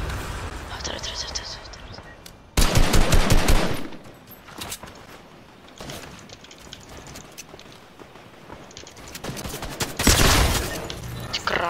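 Bursts of rapid gunfire in a Squid Game map of a video game, loud and sharp, between quieter stretches, with a voice talking now and then.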